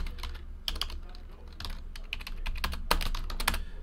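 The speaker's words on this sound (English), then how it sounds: "Actually, let me type that in the chat too." Fingers type a short message on a computer keyboard, with a close, irregular run of clicky keystrokes and a few heavier key hits, over a faint low background hum.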